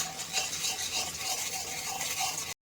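Spiced chhena curry with salt and sugar is stirred and sautéed in oil in a pan, giving a steady, close scraping and soft sizzling hiss that runs evenly without pauses.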